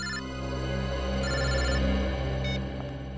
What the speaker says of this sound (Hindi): मोबाइल कंपनी वालों का फोन था।